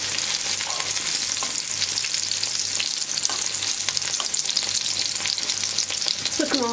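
Zucchini fritters (mücver) frying in oil in a pan, a steady close sizzle with faint crackles and the occasional scrape of turning.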